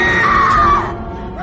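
A woman lets out one loud, shrill scream of pain in the 2024 horror film Immaculate as a captive's tongue is torn out, the cry sustained for under a second before trailing off.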